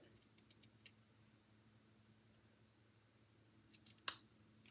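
Quiet crisp scissor snips cutting ribbon, a few light cuts early on and a sharper cluster near the end, over a low steady background hum.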